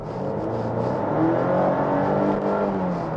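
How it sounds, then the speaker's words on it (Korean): The turbocharged engine of a Volvo S60 B5 drones steadily and loudly from inside the car as it revs and pulls, a continuous broadband hum without pauses. "이 정도의 엔진 회전 질감이라고 하면은"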